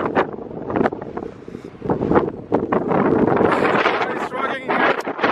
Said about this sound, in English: So guys, also here, it's really windy.